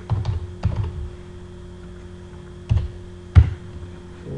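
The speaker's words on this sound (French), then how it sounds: "Je tape l'adresse." Keystrokes on a computer keyboard while entering a client's address into order-and-stock software, a few separated taps and short bursts with quiet gaps between, close and clear.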